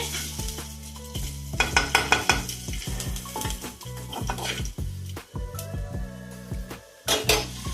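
Dried red chilli and whole garam masala crackle in a hot pan as a metal spoon stirs and knocks against it, giving a string of sharp clanks and scrapes over a low sizzle.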